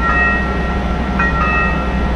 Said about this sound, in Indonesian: Sancaka yang dari arah Jogja menuju Surabaya, dia akan mendahului kereta kita Singasari ini